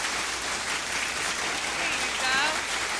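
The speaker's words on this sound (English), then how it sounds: "The crowd goes wild." A studio crowd on a radio show claps and cheers in a dense, continuous wash of applause that holds steady and swells slightly near the end.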